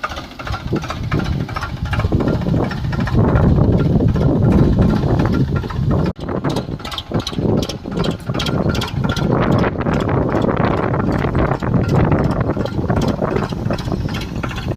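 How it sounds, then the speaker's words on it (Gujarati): A tractor engine runs loudly and steadily nearby, a continuous low rumble with a rapid mechanical clatter ticking through it, and no voices. "ફટાફટ પહેલાં આપણે ટ્રેક્ટર લઈને ઝાર ભરી આવી"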